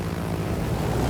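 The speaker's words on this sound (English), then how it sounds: "These aircraft, by and large, don't move very quickly." Carrier aircraft droning in the naval video game World of Warships, a steady, dense engine roar filling the whole moment without pause or variation.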